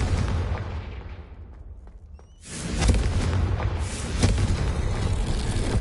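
A Confringo blasting curse explodes in a Harry Potter video game, a sudden loud boom after a brief quiet lull, followed by rumbling blasts and crackling debris close by.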